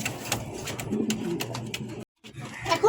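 A silver Sirazi pigeon coos in a series of soft, rolling throaty calls, close by, with a brief gap before more cooing resumes.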